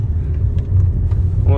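Road workers' vehicles passing along the Sarykol highway in Kostanay region, a steady low engine and tyre rumble close by, with a voice talking over it.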